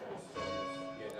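A rope-rung church bell rings with a sustained, shimmering tone and long hum, heard fairly faint under room sound.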